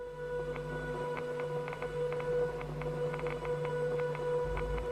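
Granular synthesizer texture with randomized playback position and direction, some grains reversed: a faint, continuous ambient drone with steady sustained tones and scattered tiny clicking grain bursts overlapping throughout.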